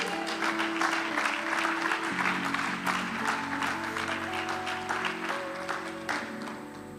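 A church congregation claps during a morning service, a dense, sustained round of applause with music or tonal sound underneath and no clear speech, holding fairly loud throughout.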